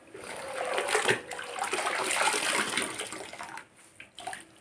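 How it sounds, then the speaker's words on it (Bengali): A mopping cloth is swished and wrung in a bucket of water, giving a continuous splashing and trickling that fades to a few drips and splashes at the end. "কাপড়টা বারবার করে ধুয়ে নিয়ে মুছছি"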